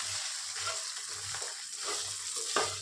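Onion leaf sabji, seasoned with salt and coriander, is mixed in a pan: a soft continuous sizzle under intermittent muffled scraping strokes of a spoon, close up and fairly quiet, with no talk.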